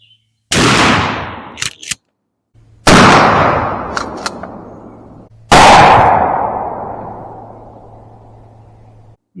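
A 12 gauge shotgun firing Winchester Deer Season 2.75-inch rifled slugs: three loud, sharp blasts spaced a few seconds apart, each trailing off in a long echoing decay outdoors.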